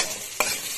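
Garlic and onion are stirred in a hot sizzling pan, a short burst of frying hiss broken by one quick scrape of the spoon, close and fairly loud.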